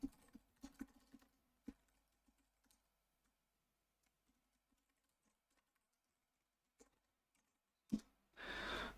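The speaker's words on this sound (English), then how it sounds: "I'm going to type it out one more time." Quiet, fast keystrokes on a computer keyboard come in a short burst at the start, then thin out into scattered taps before a final louder clack and a rush of noise.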